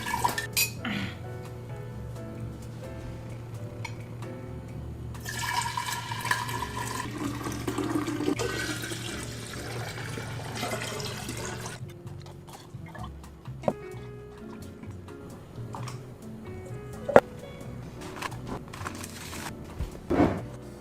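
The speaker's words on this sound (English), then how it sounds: "I'm gonna rinse them all off and dry them so they're not just like all sticky" Dishes and cutlery rinsed under running water at a kitchen sink, with clinks and clatter of pots and utensils over a steady splashing stream, louder mid-clip, close and alone.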